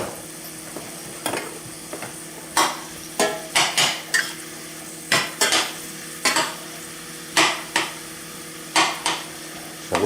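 Mushrooms, onions and garlic sizzling in a pan for marinara sauce, a steady soft fry broken by repeated sharp scrapes and clanks of a utensil stirring, irregular and close.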